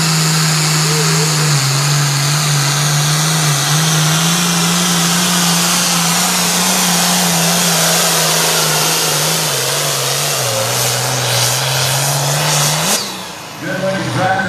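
A pulling tractor engine at a farm tractor pull roars loudly and continuously under heavy load, holding a strained, steady pitch that wavers slightly before dropping off near the end.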